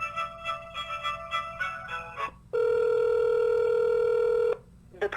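A telephone line during a call transfer to a police lieutenant's extension: a series of short electronic beeps, then a long steady tone lasting about two seconds, heard alone without talk.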